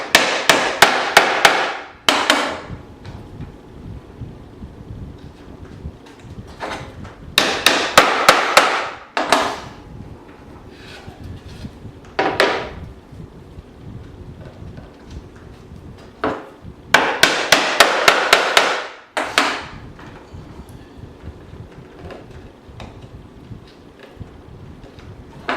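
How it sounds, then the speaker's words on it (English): A hammer taps dowel rods into a wooden square foot gardening planting guide in three quick bursts of sharp, rapid knocks, separated by quieter pauses, close and clear. "So I'll probably end up using a hammer to make sure they're seated well."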